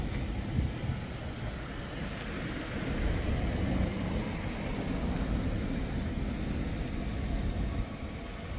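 A 214,000-mile ex-police Ford Crown Victoria from Chicago idles steadily, with a continuous low engine rumble heard close up and no talk.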